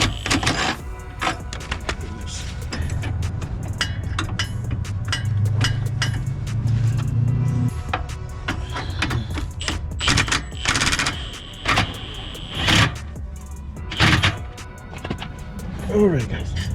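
A bolt being snugged down on a 2023 GR Corolla, with bursts of rapid rattling mechanical clatter from a tool alternating with pauses, set among nearby talking.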